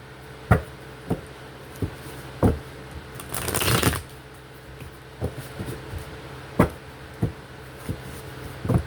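Oracle cards are shuffled close up in repeated soft riffles and taps, with one longer flurry of cards in the middle, against a quiet room hum.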